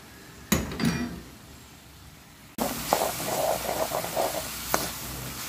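Egg goes into a pan of lightly sautéed vegetables for vegetable rava upma and is stirred. A couple of close clinks come first, then a sudden loud sizzle continues under steady stirring and scraping.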